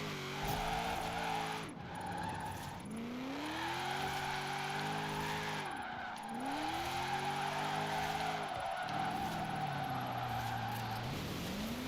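Drift car in the Forza racing game sliding and skidding, its engine note rising and falling through repeated revs while tires squeal continuously, loud and close with no talking.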